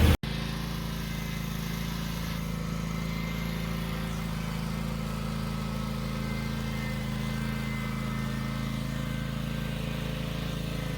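A lawnmower engine runs at a steady drone while being used to pull a flathead six engine out of an AMC Rambler, humming evenly and continuously without letup for several seconds.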